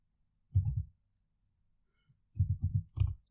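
A computer mouse clicks while working in SQL database software: a short burst of rapid clicks, then a pause, then two more quick clusters, close and fairly quiet.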